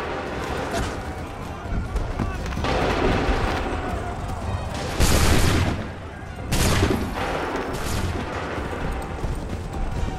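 Musket volleys from the Assassin's Creed III game crack out in broad bursts, with a big volley near the middle and another soon after, over constant battlefield din.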